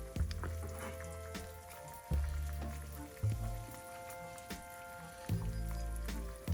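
A Swiss cheese omelette cooks in a pan, giving a steady soft sizzle with occasional light taps and pops.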